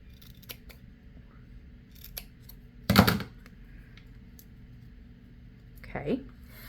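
Scissors make one sharp, close snip through glitter heat-transfer vinyl (HTV) during a craft project, with a few faint handling clicks around it and a softer rustle near the end.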